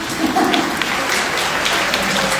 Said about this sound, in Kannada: ಎಲ್ಲ ಚಪ್ಪಾಳೆ ತಟ್ಟಿದ್ವಾ?